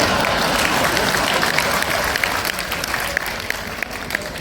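Steady applause from a large audience at a Hindi comedy poetry performance by Surendra Sharma in Chittorgarh, a dense continuous wash of many clapping hands that runs at an even loudness throughout with no speech.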